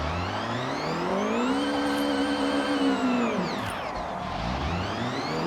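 A 1997 Honda Civic Type R drifts in a racing game, the engine note droning and rising then dipping sharply as the back end flicks out, with a brief tire hiss over the steady close whine.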